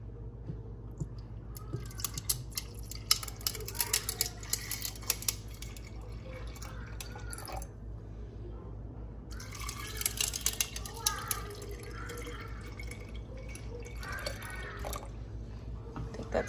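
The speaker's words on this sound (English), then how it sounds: "I'm gonna go ahead and pour some of this coffee." Coffee poured over ice in a cup at home, a soft trickling, splashing pour in a couple of bursts, faint and close, with a voice and household murmurs in the background.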